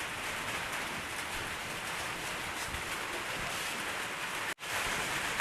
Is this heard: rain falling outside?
yes